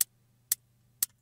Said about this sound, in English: So our hats together sound like this.